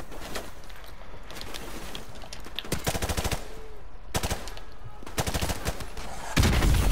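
Rapid automatic rifle fire in the Call of Duty Modern Warfare Remastered campaign, repeated loud bursts with short pauses between them, ending in a heavier blast.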